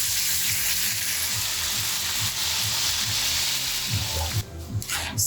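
Water pours into a pan of sautéed pancit bihon ingredients with beans, a loud steady rush and sizzle that stops near the end, leaving a few faint stirring sounds.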